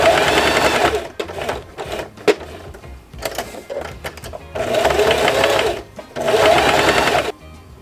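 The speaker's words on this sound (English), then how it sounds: "now I'm gonna sew a straight stitch along the whole perimeter" A sewing machine runs a straight stitch around the perimeter of a fabric belt bag, in several sustained bursts of steady, close whirring separated by short pauses and handling noises.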